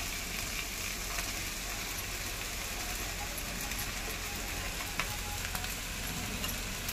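Sago pearls frying in ghee in a pan over medium heat while being stirred, giving a steady, close, even sizzle that runs unbroken throughout.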